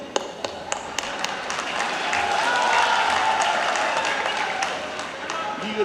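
Applause from an audience at a Kannada political speech by Siddaramaiah, a dense, steady clatter of many hands clapping that swells through the middle, with a voice heard over it.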